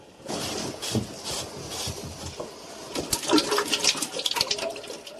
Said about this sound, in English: The oil is leaking.